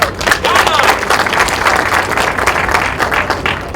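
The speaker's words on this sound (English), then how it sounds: "Let's give him a round of applause." A crowd at a town hall meeting in Boston breaks into a dense round of applause with some cheering, loud and steady throughout with voices mixed into the clapping.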